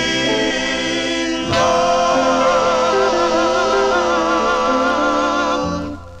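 A 1958 doo-wop vocal group record on the Apollo label plays, with layered harmony voices over a steady backing that swells after a brief break and then fades at the end.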